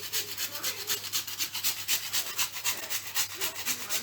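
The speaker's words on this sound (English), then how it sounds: "You can either use this grater or I have another nutmeg grater" Whole nutmeg grated by hand on a kitchen grater for Jamaican pumpkin punch, a steady run of close, dry rasping strokes repeating at a quick even rhythm with no talking.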